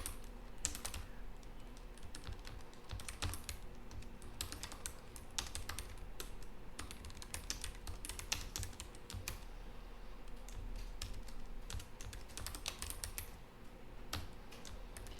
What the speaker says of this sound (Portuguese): Entramos no editor de texto do Linux, vamos digitar aqui um texto.